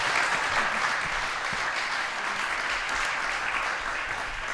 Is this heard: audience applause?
yes